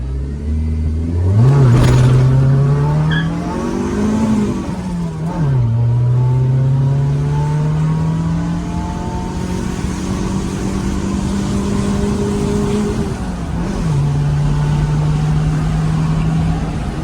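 Suzuki Esteem on a test drive after a Stage 3 clutch upgrade, engine loud and close, revving and climbing through several gear changes with brief dips between pulls, no talk.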